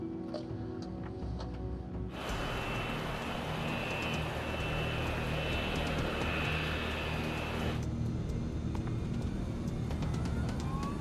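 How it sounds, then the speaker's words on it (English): Airliner engines spool up to takeoff thrust, heard from the cockpit as a sudden, steady, loud roar that holds for several seconds before easing to a lower continuous rumble. "Takeoff thrust is set. Speed building on board."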